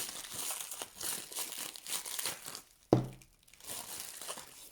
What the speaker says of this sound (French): je vais déballer et je vous explique après parce qu'avec le bruit